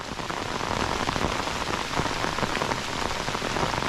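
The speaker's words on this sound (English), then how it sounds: "Ooh, raining hard." Heavy rain pours steadily on a hiking trail during a thunderstorm, a dense, loud hiss of drops drumming on surfaces with no pauses.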